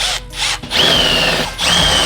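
A power drill upsizing a pilot hole to 1/4 inch during work on a Q50 lightweight race seat, two loud sustained whining bursts separated by a brief pause, close and alone.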